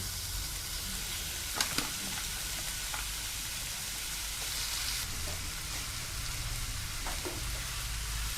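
Cleaned prawns hit a hot pan of chilli garlic masala and fry with a steady, dense sizzle, with a few sharp clinks of a spoon stirring near the start and again toward the end.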